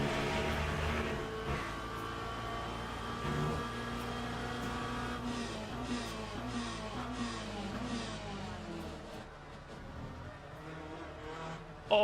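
A Porsche GT3 race car slides sideways in the Le Mans Ultimate racing game, its engine droning steadily at high revs and shifting pitch with faint tire scrub, close and continuous throughout.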